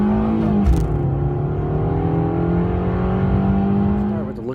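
A 2013 Toyota Camry Hybrid XLE pulling away, its steady drive hum and faint rising whine continuous and close throughout, with a brief thump near the start.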